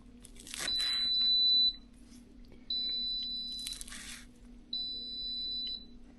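An air fryer beeps three times, each a long high electronic tone spaced about two seconds apart, over a low steady hum and some crinkling handling noise nearby.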